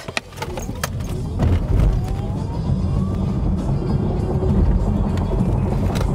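Audi E-Tron GT electric car accelerating from 0 to 100 km/h on a narrow, rough country road, a rising electric whine over heavy road and wind rumble, heard from inside the cabin at steady volume.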